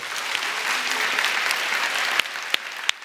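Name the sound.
applause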